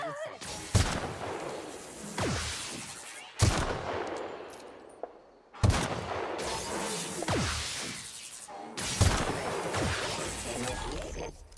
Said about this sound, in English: Pravati's down there shooting.